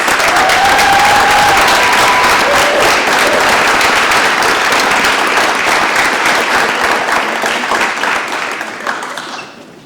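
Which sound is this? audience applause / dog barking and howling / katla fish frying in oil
audience applause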